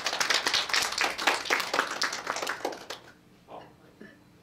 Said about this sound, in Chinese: 给 Marcus 一个掌声鼓励一下。